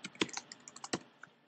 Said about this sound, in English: I'm just typing travel and rotate.